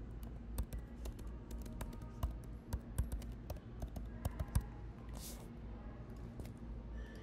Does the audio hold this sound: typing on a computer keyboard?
yes